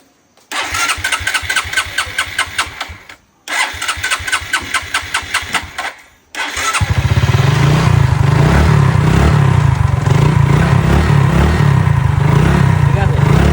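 A motorcycle that had stood unused for four days cranks over twice in rhythmic bursts after a spark plug change, then catches and settles into a loud, steady idle close by.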